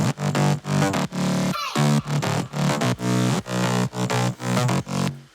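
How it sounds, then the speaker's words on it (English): A synth bass line from an electronic remix, loud and pulsing in a steady rhythm with heavy low end and bright harmonic overtones, playing alone without any voices. "this is just the bass, and it sounds like this."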